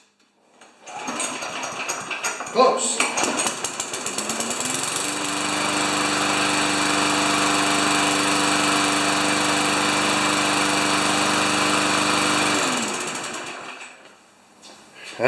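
A Briggs engine on a Murray mower covered in oil pulls over, sputters and catches, then runs at a steady, loud buzzing idle for several seconds before shutting down, with a brief word spoken near the start.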